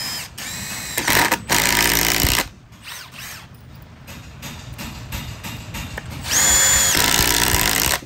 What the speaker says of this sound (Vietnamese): Đây, đây mình thử chế độ bắn vít tự động ha.